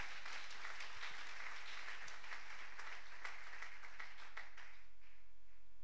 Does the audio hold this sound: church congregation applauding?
yes